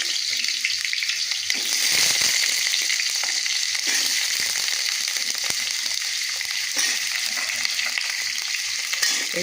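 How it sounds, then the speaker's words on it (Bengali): Round-cut potato slices fry steadily in hot oil, a dense, loud sizzle running throughout with occasional scraping stirs from a utensil. "আমি আলুগুলোকে ভেজে নেব।"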